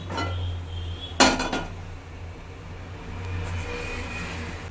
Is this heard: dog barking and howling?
no